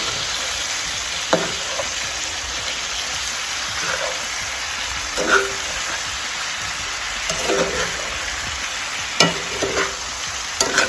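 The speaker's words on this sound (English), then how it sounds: "You just want to stir it in here." Vegetables being stirred through a sizzling pan for a seafood fettuccine Alfredo, a steady fry hiss with a few soft utensil scrapes and clicks spaced across the stretch, no talking.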